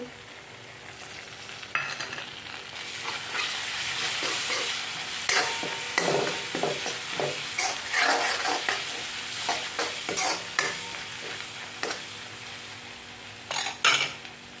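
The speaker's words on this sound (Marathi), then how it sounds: "एकत्र व्यवस्थित हलवून घ्यायचं आहे थोडंसं टॅमॅटो प्युरी आहे ती टाकते" A spoon stirs tomato puree into a sizzling misal mixture in a pan, with steady frying hiss and repeated scraping and clinks of utensil against metal in uneven strokes, close and fairly loud, with no talking.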